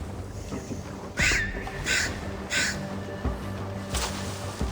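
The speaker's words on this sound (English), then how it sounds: "Damn bird's gone mad!" A crow caws repeatedly in Assassin's Creed Valhalla, several loud harsh calls spaced about a second apart over a steady game ambience with no talk.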